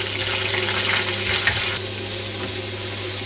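Plenty of onions fry for curry in a pan with a dense, steady sizzle close by, a brief stir or shift midway, then a slightly softer hiss.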